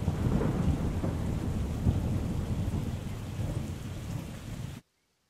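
Steady rain pours with rolling thunder in a medieval role-playing video game, Kingdom Come, a loud continuous downpour that cuts off abruptly near the end.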